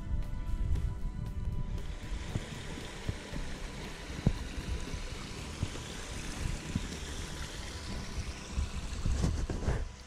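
A small waterfall and stream beside a campsite on a forest trail, a steady rushing and trickling flow heard alone, fairly faint and continuous with a few brief knocks.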